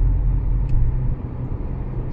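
Toyota RAV4 in sport mode rolling at about 20 mph, heard from inside as a steady low engine and road rumble with no talk.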